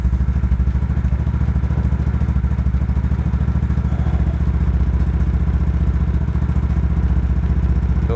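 A 2010 Yamaha Mio Smile scooter engine runs under throttle with a steady, even thrum and a fast regular pulse. It stays loud and close throughout, with no voices.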